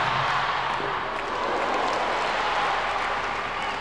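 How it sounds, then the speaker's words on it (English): An ice hockey arena crowd before a Halloween game day match between Sheffield Steelers and Nottingham Panthers gives off a dense, loud, continuous roar of cheering and chatter with no gaps. "A very verbal crowd already, anxiously waiting for the start of this Halloween game day"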